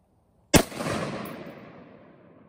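One loud gunshot from a 5.56 FMJ round fired at a PACA level 2 vest, a sharp close blast followed by a long echoing rumble that fades over two seconds, with no talking.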